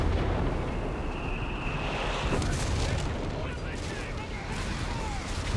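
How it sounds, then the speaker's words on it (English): A Whizbang rocket artillery barrage slams into moving infantry in Company of Heroes 3, a continuous roaring wash of explosions and booms with a rising whistle of incoming rockets, loud and dense, with a voice talking over the battle. "There's a whiz bang on the moving infantry of Nub."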